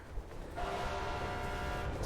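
A train rushes past in the Mirror's Edge video game, a dense rumbling roar that swells midway and holds with a faint tonal whine, close and loud.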